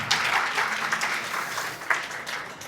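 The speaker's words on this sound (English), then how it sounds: "Please, one more round of applause for my hero and role model" Audience at a book launch event applauds Dr. Buller with steady, dense clapping that fills the room for the whole stretch, with one sharper burst near the end.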